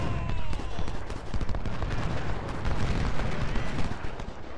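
Artillery booms and musket gunfire from the Ultimate General Civil War game at the battle of Gaines' Mill, with dense, continuous rumbling volleys and sharp cracks layered together over a deep roar, loud and unbroken with no talk.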